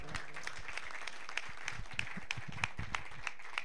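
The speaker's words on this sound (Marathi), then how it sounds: "एकदा जोरदार टाळ्या वाजवा" Audience applause for donors at a village cricket tournament prize distribution, steady moderate clapping from a crowd with sharper individual claps standing out, carried on under a faint background voice.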